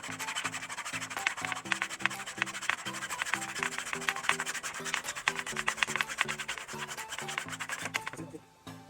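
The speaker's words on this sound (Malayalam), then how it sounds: "ഈ ഒരു ഈറ്റ ഞാൻ കട്ട് ചെയ്യാൻ ഉപയോഗിച്ചത് നമ്മുടെ ആക്സോ ബ്ലേഡാണ്" A hacksaw blade cuts through a bamboo reed in steady back-and-forth rasping strokes, close and rhythmic, for about eight seconds before stopping.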